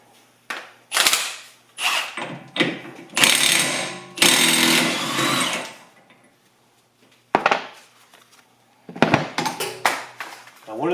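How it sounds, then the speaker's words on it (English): An impact gun with a socket rattles in short hammering bursts while removing an axle nut from an NC MX5 rear hub, several loud bursts of varying length separated by brief quiet gaps. "I'm going to take our socket and impact gun,"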